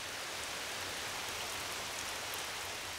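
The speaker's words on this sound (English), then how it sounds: "The streaks of rain seemed serene, but all the summer rain was transforming the forest." Summer rain falls steadily on a garden forest, a dense, even hiss of drops that stays constant and fairly loud throughout with no voices.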